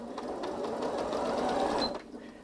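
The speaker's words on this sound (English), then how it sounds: "So if I start sewing now" A Janome Memory Craft 8200QCP SE sewing machine stitching steadily at high speed, a close, even mechanical whir that runs for about two seconds and then stops.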